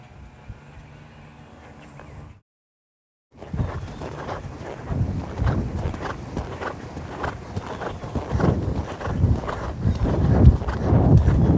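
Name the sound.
horse hooves clip-clopping during riding turns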